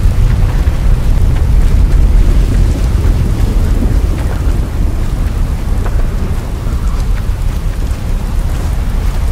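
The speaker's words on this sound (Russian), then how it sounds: "меня настигает эта здоровенная буря" Thunderstorm with heavy rain in the horror video game Cursed Forest, a loud, dense roar of rainfall with deep rumbling thunder rolling continuously throughout, no voices.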